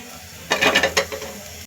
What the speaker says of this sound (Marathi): आता आपण कांदा भाजून घेऊया